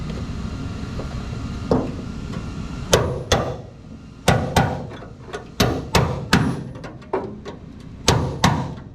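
Sharp, ringing hammer strikes on a 1967 Mustang convertible's floor pan land irregularly, a dozen or so blows with short pauses between, loud and close.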